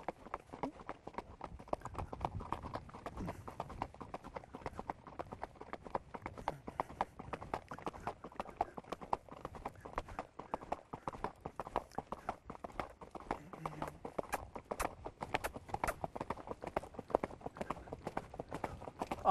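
A horse being ridden gives a steady, rhythmic clip-clop of hooves throughout, moderately close and fairly quiet, with little else around it.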